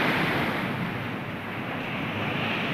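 Sea waves at Khavane beach wash in a steady, broad rushing hiss, with wind buffeting the microphone and no voices.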